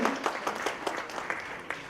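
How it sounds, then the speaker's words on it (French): A short burst of scattered applause from a small group at a French Equestrian Federation congress plenary, with claps coming in loose, uneven clusters. "c'est-à-dire avec des applaudissements, Céline Xidori"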